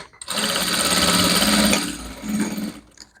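A sewing machine stitches fabric for a pet dress in one loud continuous whirring run, briefly slowing and then surging again before stopping.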